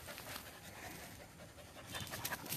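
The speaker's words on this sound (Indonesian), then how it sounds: "Ke tempat si Doggy, ada Doggy kah? Ada Doggy? Ada? Jangan gonggong sayang" A dog pants steadily and quickly while out on a walk, the breathing close and continuous against a faint outdoor background.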